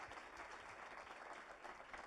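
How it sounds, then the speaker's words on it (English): An audience applauds steadily and continuously at the close of a fireside chat, a dense wash of many hands clapping at a distance, faint and uniform throughout. "So let's give a big round of applause."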